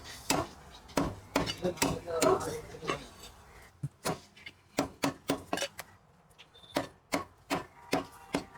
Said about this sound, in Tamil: கறி கட் பண்ணுறதே சூப்பராக கட் பண்ணுறாரு